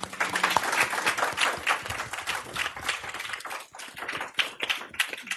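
A live audience at an arts conversation event applauds a panel, with sustained dense clapping that stays fairly even, heard close up and alone without talk.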